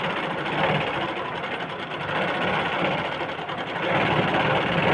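A sewing machine runs steadily, stitching lace onto a blouse with a continuous close whirring hum and rapid needle rhythm and no pauses.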